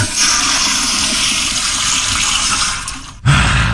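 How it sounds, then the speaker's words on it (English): A home power-flush toilet in a restroom flushes with a loud, forceful rush of water that roars steadily, then cuts off abruptly and leaves a lower gurgling refill. "I got your sound effects from your power flusher in your restroom at your home"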